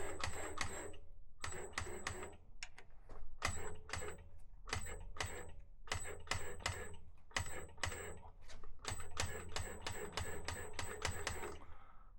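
A BM1 / SMA56 flanging machine works a 100 mm diameter tube, giving a series of sharp, close mechanical clacks in steady, rapid bursts separated by brief pauses. No one speaks.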